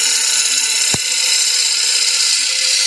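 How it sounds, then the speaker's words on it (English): A bowl gouge makes a pull cut across a wood bowl spinning on a lathe, giving a steady, hissing shear of tool on wood with one brief knock partway through. "So roughing out, I'm calling a pull cut. So that would be where I drag the bottom surface of that gouge around"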